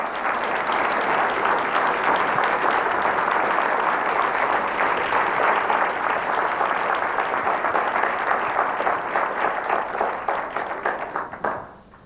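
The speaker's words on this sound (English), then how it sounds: "that clapping should go on for 5 hours" An audience claps in sustained, dense applause for a long stretch, loud and even throughout before thinning and fading out near the end.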